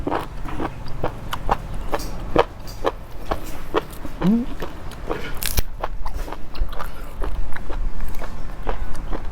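Steady crunchy chewing, with regular bites and crackles close up that continue throughout at a fairly loud level.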